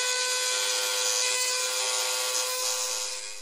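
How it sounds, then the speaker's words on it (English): A Dremel rotary tool grinds the heads off steel link pin rivets on a Benelli TRK 502X motorcycle chain, giving a steady high-pitched whine and rasp, close and loud, running unbroken with no talk. "I'm going to use a Dremel just to do that."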